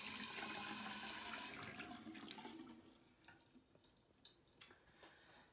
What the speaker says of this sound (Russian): Отсюда вода вытекает.